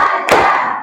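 Children in a classroom clapping in a counted clapping routine, a single loud burst of hand claps near the middle over a sustained group voice, with another clap starting at the very end.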